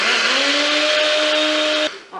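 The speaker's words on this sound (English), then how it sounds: "you have to blend them. Yeah, it's a blender" A kitchen blender whirs steadily as it crushes biscuits for a marshmallow pie, a loud continuous motor drone with a stable pitch that runs for about two seconds and then cuts off abruptly.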